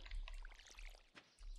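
Watering crops with a watering can in the farming game Stardew Valley, a short pouring, trickling splash of water over about a second and a half, fairly faint, with no talking.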